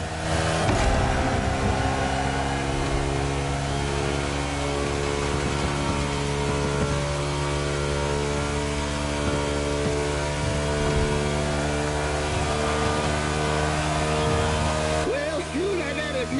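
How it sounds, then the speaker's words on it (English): Ford Mustang engine in The Crew Motorfest racing game, droning steadily with shifting revs throughout, loud and continuous, with faint commentary mixed underneath. "This Mustang here is more powerful than my good old Thunderbolt."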